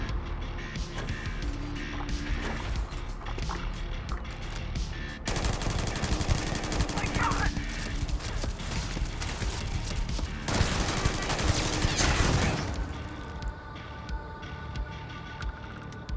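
Turret gunfire in the video game Starfield comes as sustained rapid bursts of shots over a constant mechanical drone, with the heaviest volleys in two long stretches and quieter ambience between them.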